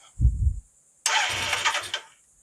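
A 1978 Suzuki GS550 motorcycle engine is heard up close: a brief low starter rumble, a pause, then the engine fires and runs loudly for about a second before dropping back down.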